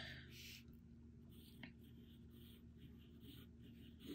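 Steel-free fountain pen nib scratching blue ink across paper, a soft continuous scribbling with light feedback and brief pauses between strokes, close and quiet with no talk.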